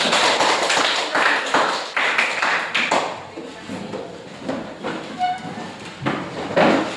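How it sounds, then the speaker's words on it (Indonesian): Classroom applause from a group of students, a few seconds of scattered clapping that swells and fades in uneven bursts, fairly close in a small room. "Kita berikan aplaus"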